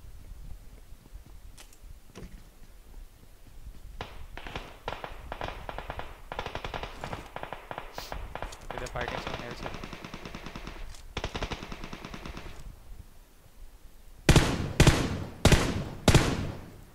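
Gunfire in the video game PUBG: sparse single shots, then a long stretch of rapid automatic bursts, ending with four loud separate heavy shots, with no voices over it.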